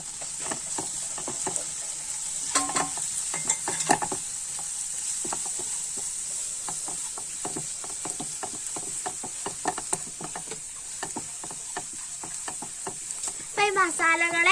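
Garam masala, pepper powder and chili flakes stirred in a hot pan for chicken curry: steady sizzling under frequent spoon scrapes and taps, with brief voice sounds.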